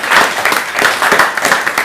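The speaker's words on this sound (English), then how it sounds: "Please clap for him." A classroom claps for a pupil, a short, fairly loud burst of many hands slapping in a rapid, uneven patter that swells and fades slightly over two seconds.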